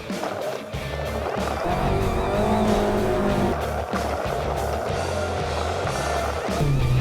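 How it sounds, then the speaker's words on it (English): A 4WD engine revs hard and loud as the vehicle climbs the rough Old Tele Track, a sustained straining roar with shifting pitch and tyre noise, close and continuous throughout. "Put every millilitre of that motor into it."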